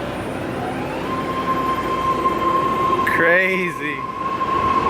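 A BART commuter train rumbles along with a steady roar and a sustained high whine, a person speaking briefly over the ride.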